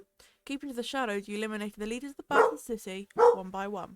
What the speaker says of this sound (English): So, I apologise for my dog.